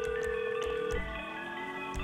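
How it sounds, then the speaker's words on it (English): Electronic phone ring triggered by a chaos mod in Grand Theft Auto V, a repeating bright tonal ring pattern over game ambience, fairly quiet, with no talk. "Someone's phone is ringing."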